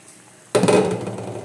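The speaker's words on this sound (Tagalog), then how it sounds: "Ay, kumulo na talaga." Water comes to a boil in a cooking pot while breakfast is made with green vegetables. After a quiet start, a sudden loud burst of bubbling and hissing begins and keeps going steadily.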